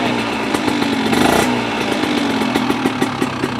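An Italian two-stroke motorcycle engine buzzes loudly nearby, revving up in a brief rising burst before dropping back to a steady, rattling idle.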